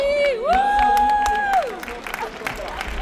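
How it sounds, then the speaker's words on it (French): A crowd at a rally cheers and applauds, with sustained whoops and shouts rising over scattered clapping, loud and close. Voices call out in the mix. "On applaudit les femmes"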